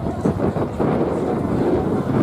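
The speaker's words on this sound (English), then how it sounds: "Still a powerful headwind persists." Strong headwind gusting across an outdoor athletics track during a championship race, a steady broadband rumble and buffeting against the microphone that fills the whole stretch without pause.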